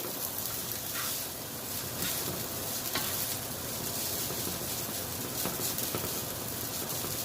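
Noodles with vegetables and rotisserie chicken stir-fry in a hot pan at home, a continuous loud sizzle with occasional scraping stirs and crackles close by.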